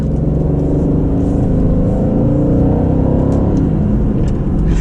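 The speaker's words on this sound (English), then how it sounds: "It dropped us down to third and then downshift to second" 2020 Aston Martin Vantage engine heard from inside the cabin, a loud steady low rumble and drone with a slight rise in revs as the gearbox downshifts in manual mode.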